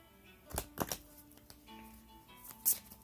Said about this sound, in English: I'm gonna shuffle these like this because there's not that many.